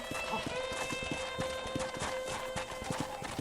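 Steady, rapid horse hooves clip-clop in the Red Dead Redemption video game on PS3, an even rhythm of close hoofbeats running the whole time beneath a faint sustained musical tone.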